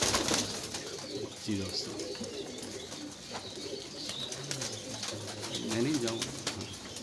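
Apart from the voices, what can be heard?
pigeons cooing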